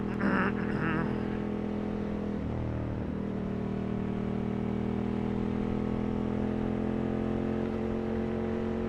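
A Ducati 916 motorcycle engine roars steadily at speed, a loud continuous drone with a brief shift in pitch early on, close up throughout.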